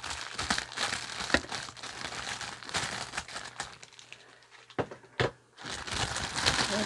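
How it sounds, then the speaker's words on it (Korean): Plastic wrap is peeled off a bunch of mountain bananas bought from a supermarket, giving close, loud crinkling and crumpling that runs almost continuously with a few brief pauses. "먼저 비닐을 벗겨볼게요."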